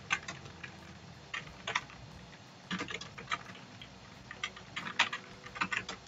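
Fast bursts of computer keyboard typing, with clusters of crisp, close keystrokes broken by short pauses, in a quiet room with no speech.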